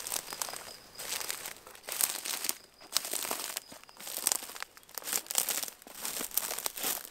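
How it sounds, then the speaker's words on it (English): Dry, spiky bushes crushed and squeezed by hand on overgrown land, giving continuous close crackling and crinkling with brittle snapping bursts, fairly loud and steady throughout with no voices. "This is the sound of defeating spiky bushes."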